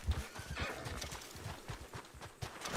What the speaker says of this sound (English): let's call the horse as we run back to it as well